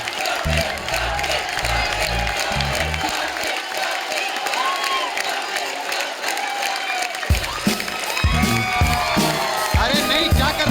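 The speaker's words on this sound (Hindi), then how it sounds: "एक बार जोरदार ताली हमारे भज्जी बाजी और गीता के लिए" A studio audience at a comedy talk show breaks into loud, sustained clapping and cheering with whoops, mixed with music, a brief lull of cheering alone, then another swell of applause.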